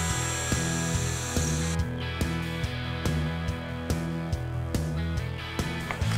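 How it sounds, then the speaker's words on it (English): A drill boring pilot holes in MDF with a 3 mm bit, a steady close motor whine pulsing in a regular rhythm, with brief pauses between holes. "I like to do pilot holes when I'm working with MDF"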